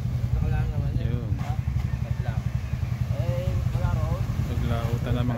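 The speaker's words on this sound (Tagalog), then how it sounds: "Naglautan ng mga bangka, yun." Small fishing boats head out to sea from a Philippine shore with a steady, chugging mid-pitched engine putter close by, while people talk over it throughout.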